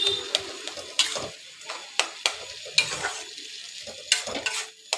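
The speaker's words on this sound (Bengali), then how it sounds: "এবার আমি ভালো করে মশলাটাকে কষিয়ে নেব, মানে কচুর শাকটা মশলা দিয়ে ভালো করে কষাতে থাকবো।" Taro leaves being sautéed with spices and salt in a pan, with close, uneven scraping strokes of a spatula over a gentle sizzle and clinks against the pan.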